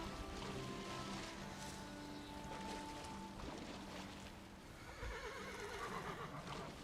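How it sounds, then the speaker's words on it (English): A horse in the Valheim video game whinnies and its hooves clop, a faint, low-level mix with a wavering neigh near the end over a busy game background. "Horse clopping noise."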